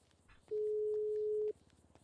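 Phone in GTA RP giving a single steady electronic tone lasting about a second during a call, clear and close, with faint background sounds around it.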